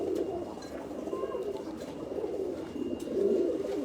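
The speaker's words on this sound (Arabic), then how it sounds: "حمام فيهم اللي طالع تايجر وفيهم اللي طالع وايت سايد" Domestic pigeons, including tiger and white-side varieties, cooing nearby in a loft, with low rolling coos repeating over soft background noise.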